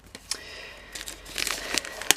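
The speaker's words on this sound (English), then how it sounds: "they're kind of wrapped in cellophane like this as well. So I'm going to bust into this just like so" Close, quiet crinkling and tearing of cellophane wrapping being ripped open on a card kit, irregular rustles building to a few sharper crackles, no voices.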